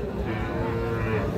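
A young bull calf lows steadily at a crowded livestock market in Tangail, its drawn-out bellow carrying close and loud over a dense murmur of traders and buyers.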